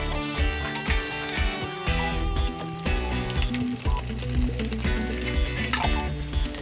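Grated ginger and garlic paste fry with spices in a pan over low heat, a continuous soft sizzle heard beneath steady background music that dominates the sound.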